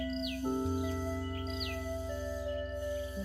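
Ashy tailorbird (prenjak kelabu) giving short, quick, sharp calls, a few distinct chirps repeated over a steady, loud background of hum and insect-like drone.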